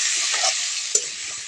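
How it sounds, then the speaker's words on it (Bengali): Kohlrabi and potato frying in a pan with salt and turmeric, a steady, close sizzle that runs throughout, with a brief stir or scrape of the pan partway through. "লবণ হলুদ দিয়ে ওলকপি আলুটা ভালো করে ভেজে নেব।"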